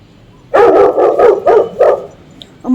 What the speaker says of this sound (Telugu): అమ్మో కుక్క